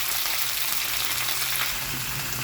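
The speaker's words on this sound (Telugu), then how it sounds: "ఆయిల్ హీట్ ఎక్కిన తర్వాత ఈ తాలింపు సరుకులు ఒక్కొక్కటిగా యాడ్ చేసుకోవాలి" Mustard seeds and other tempering spices fry in a tablespoon of hot oil in a pan for a tomato and pepper rasam: a continuous close, bright sizzle and crackle with no talking.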